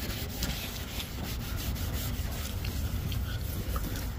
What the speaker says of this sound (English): I'm just alternating through all these different pads, different scuff textures, just trying to cut it each different way.